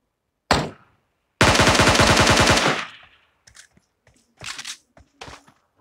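Gunfire in the PUBG Mobile battle game: a single loud shot, then a sustained rapid automatic burst lasting about a second and a half, followed by several shorter scattered bursts and shots, sharp and close.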